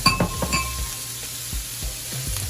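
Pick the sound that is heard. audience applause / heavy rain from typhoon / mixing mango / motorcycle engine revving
mixing mango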